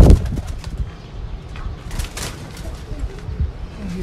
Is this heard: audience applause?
no